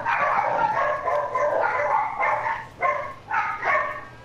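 Dogs barking in a GTA survival game session, a string of loud close barks and yips in irregular bursts, with no talk over them.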